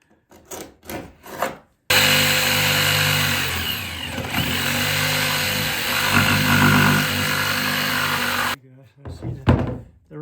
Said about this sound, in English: the jigsaw blade goes up and it likes to tear the top layer of the plywood